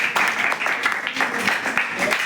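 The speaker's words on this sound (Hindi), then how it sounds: "एक बार अनस के लिए तालियां बजा दे" A classroom of students claps for a classmate in a brief, busy round of applause that carries a little background chatter.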